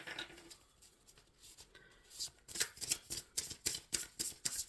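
Tarot cards being shuffled by hand, quiet at first, then a rapid run of crisp riffling bursts in a steady rhythm close to the microphone.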